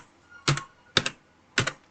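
Three crisp, separate keystrokes sound close up on a computer keyboard while an online entrance exam form is filled in, evenly spaced about half a second apart with quiet between.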